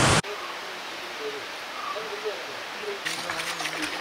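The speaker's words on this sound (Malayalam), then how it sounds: "ഇപ്പം വെള്ളം കുറവാണ്, പക്ഷേ മഴക്കാലത്ത് ഇത് അതിഭീകര വെള്ളച്ചാട്ടം ആയിരിക്കാനുള്ള സാധ്യത ഉണ്ട് കേട്ടോ" A small forest waterfall near Munnar, running low on water, gives a steady, even rushing hiss; faint voices and a brief clatter join near the end.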